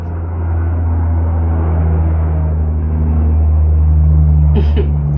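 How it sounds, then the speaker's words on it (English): An airplane passes overhead outdoors, a loud steady low rumbling roar that holds throughout, with a faint brief higher sound near the end. "there's an airplane going by us right now"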